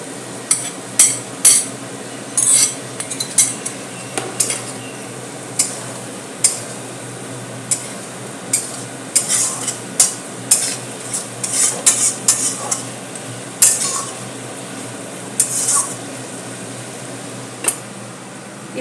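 Fried pointed gourd pieces stirred into spice masala in a pan, with repeated clinks and scrapes of a spatula against the pan at an irregular pace, mid-loud and close, with no talking.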